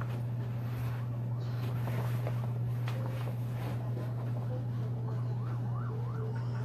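An ambulance siren wails at a distance with a rising and falling tone near the Las Vegas Strip on the night of the Mandalay Bay shooting, set over a constant low hum and faint surrounding noise.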